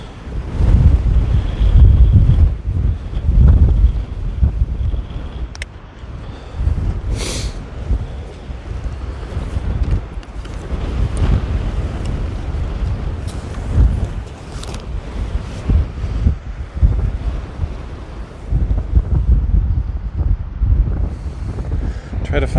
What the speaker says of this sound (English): Oh, it's ridiculously windy.